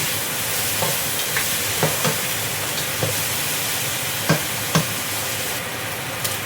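Garlic and chicken feet fry in a pan with a steady, close hiss of hot oil, broken by scattered clicks and scrapes as the pieces are stirred.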